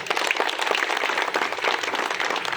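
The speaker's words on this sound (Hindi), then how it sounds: "एक बार इनके लिए आप लोग तालियां बजाएं।" A crowd at a railway workers' union protest against the NPS pension scheme claps steadily and densely, a continuous wash of applause close by that holds at an even level throughout.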